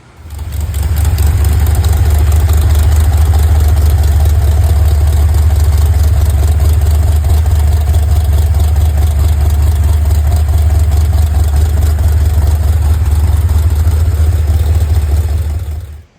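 A Mopar 440 V8 fitted with a Comp Cams Thumpr roller camshaft idles loudly and steadily up close, a deep lopey rumble running the whole time with no talking.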